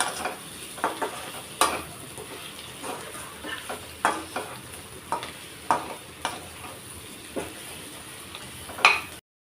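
Chilli powder frying in a pan for a tamarind-based kandapulusu, a quiet sizzle under regular metallic scrapes and clinks of a spoon stirring, repeated every second or so, with no talk.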